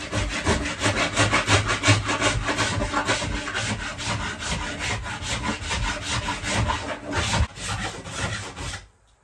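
Wooden boat parts are sanded back by hand, giving a continuous, close, rasping rub in quick regular back-and-forth strokes that stops abruptly at the end, with no voices.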